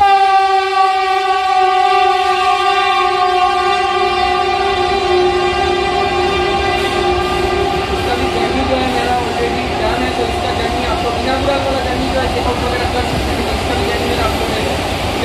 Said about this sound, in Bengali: তো বন্ধুরা, এটা হচ্ছে পুরী হাওড়া বন্দে ভারত।